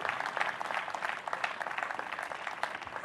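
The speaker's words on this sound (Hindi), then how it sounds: "जोरदार तालियों में खुदा के खादिम का हम इस्तकबाल करेंगे।" An audience claps steadily as a reverend is welcomed to the stage at a Christmas interfaith program, continuous moderate applause throughout with no talking.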